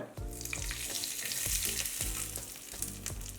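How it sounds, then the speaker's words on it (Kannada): Tempering of spices sizzles in hot oil for a Chow Chow (seeme badanekayi) chutney, a steady close crackle and hiss with faint stirring thumps, no voices over it. "ಇದಕ್ಕೊಂದು ಒಗ್ಗರಣೆ ರೆಡಿ ಮಾಡ್ಕೊಳ್ಳೋಣ"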